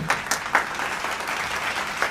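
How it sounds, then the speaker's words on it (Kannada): Audience applause fills an auditorium, a steady, dense wash of clapping with a few sharper claps standing out, loud and continuous throughout. "ಚಪ್ಪಾಳೆ"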